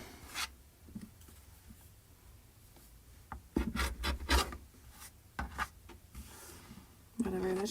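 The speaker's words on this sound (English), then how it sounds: "I'm just gonna trim this off just a tiny bit." Scissors trim fabric for a sewn cat hat. Close, intermittent snips and rustling cloth come in short bursts, with a denser cluster midway and a brief voice near the end.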